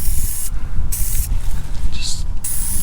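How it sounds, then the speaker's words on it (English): PB Blaster Surface Shield sprayed under a rusty car near the radiator and bumper, heard as loud hissing aerosol bursts in several short spurts with brief pauses between them. "Just give it a nice spray down in there."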